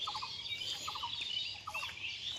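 Birds call and squabble in a bamboo grove along a narrow riverside path, giving short clustered bursts of chattering notes that repeat three times over a soft, steady outdoor hiss.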